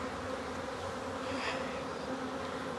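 Bees from a nuc hive buzz in a dense, steady drone close by, a quiet continuous hum of many insects with no voices.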